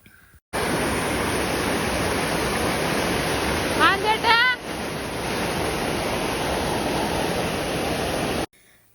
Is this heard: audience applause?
no